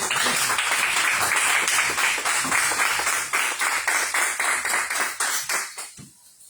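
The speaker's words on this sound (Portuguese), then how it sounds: "Vamos recebê-la louvando a Deus com nossas palmas" A church congregation claps in welcome, a dense continuous round of hand claps that holds steady, then thins into scattered individual claps and fades out near the end.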